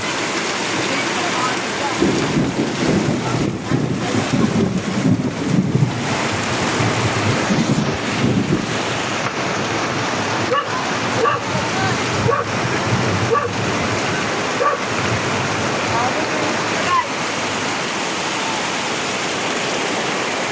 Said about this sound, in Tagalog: Grabe, lakas ng ulan na yan.